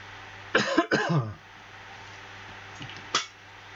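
Two quick, harsh coughs close together, followed by a softer, brief cough a couple of seconds later in a quiet room.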